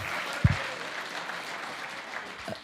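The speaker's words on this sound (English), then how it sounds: "Just give a big round of applause for Ernie." Audience applause at a community heroes awards event, fairly faint and steady throughout, with a couple of brief louder claps or thumps standing out.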